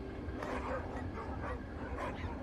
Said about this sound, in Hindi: कुत्तों की आवाज आ रही है यार